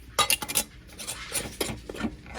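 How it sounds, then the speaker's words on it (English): A metal ring being screwed onto a canning jar lid while canning soup beans, with close, light metallic clinks and scrapes in quick uneven bursts over a quiet background. "you put your ring on it"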